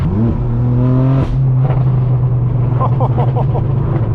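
A straight-piped BMW M4 F82 pulls hard on the way to Malibu, its loud exhaust droning and rising as the car accelerates, then crackling and popping as the revs settle, heard close from inside the car.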